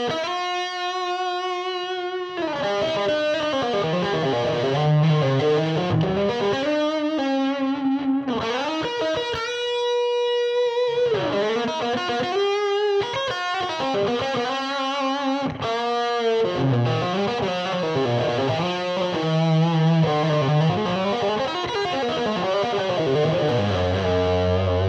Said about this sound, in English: So a much more modern sounding drive section there.